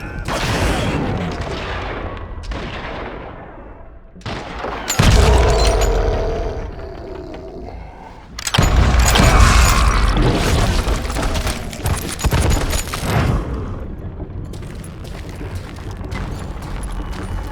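Gunfire and dynamite explosions in a mine in the Call of Juarez: Gunslinger video game: heavy booms and crackling blasts follow one another in loud, dense bursts throughout.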